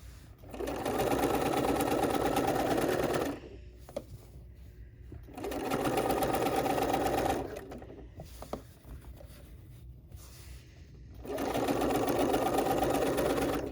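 A sewing machine stitches binding onto a quilt in three long, steady bursts of rapid needle patter, close and even, with short pauses between runs and faint handling noise.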